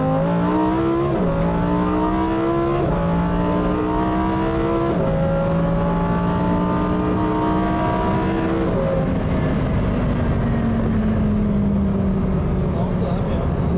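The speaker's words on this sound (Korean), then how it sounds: "다시 정지는 아니지만 이 상태에서 급가속을 한번 해보겠습니다" Lamborghini Huracan STO engine pulling hard under full acceleration, loud rising revs climbing through several gear changes with sharp upshift drops, recorded close from inside the car with a faint voice underneath.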